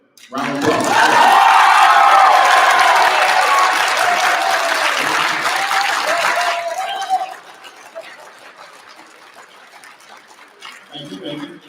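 A crowd at a pop culture expo panel breaks into loud, sustained applause with some cheering for about six seconds, then drops sharply to a low murmur with a few scattered claps.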